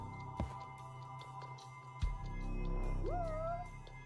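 A single drawn-out cat meow rises and wavers near the end, following two dull thumps, over a quiet, steady electronic hum, in the video game Judgment.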